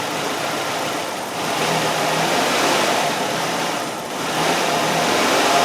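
A Nissan Sentra engine with an EGR system fault idles roughly and unevenly, its steady drone dipping and surging slightly, close by with no talking.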